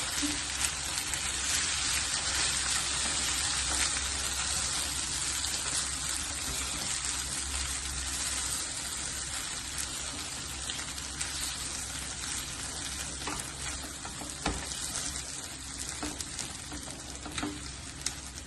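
Corn fries in oil in a pan over a medium-low flame, a dense, steady sizzle with scattered pops that carries on throughout, near and fairly loud, with no talking.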